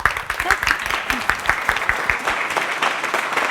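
An audience at a Tamil speaking event applauds a speaker in a short, steady round of clapping with distinct individual claps, with voices faintly audible beneath.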